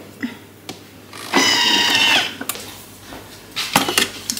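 A kitchen blender grinds speculoos biscuits into powder in a short, whining motor burst of about a second, with light clatter and knocks before and after.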